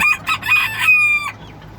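Three-month-old bantam chickens crow close by in one short, strained call of just over a second, followed by a brief quiet.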